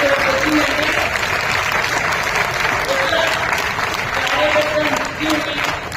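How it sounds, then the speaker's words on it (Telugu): Audience clapping at a youth award ceremony, a dense, steady round of applause lasting several seconds with a voice sounding over it. "మీరు క్లాప్ చేసుకోండి"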